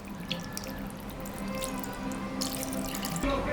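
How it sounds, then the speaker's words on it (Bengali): Water runs steadily from a tap over goat meat being readied for a Mahalaya-style mutton curry, a continuous close splashing stream with a few drips and no talk. "এখন আমি হালকা করে জল দিয়ে দেবো।"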